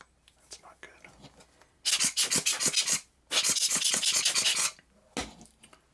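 Grit trapped inside a macro camera lens grinds in two sustained raspy bursts of about a second and a half each, followed by a brief third scrape, close and fairly loud against a quiet background.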